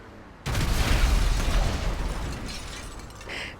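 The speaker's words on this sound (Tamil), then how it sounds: "பாருங்கள், இப்போ வெடிக்க வைப்போம்" A loud explosion in GTA 5 bursts in suddenly after a quiet moment, a heavy booming blast with debris and rumble that slowly decays, followed by a smaller secondary burst near the end.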